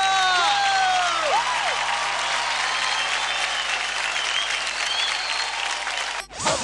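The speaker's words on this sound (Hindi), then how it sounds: "जोरदार तालियां" Sustained loud audience applause and crowd noise in a television dance show studio, continuous dense clapping that holds steady before cutting off abruptly near the end.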